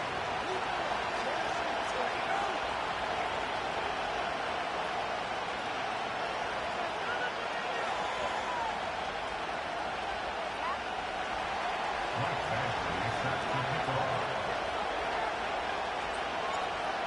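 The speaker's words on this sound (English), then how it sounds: "The crowd is alive, and with good reason" Dense stadium crowd roar from an EA Sports NFL video game playoff matchup at Soldier Field in Chicago, a steady broadband wash of cheering held at even loudness throughout with a brief low swell near the end.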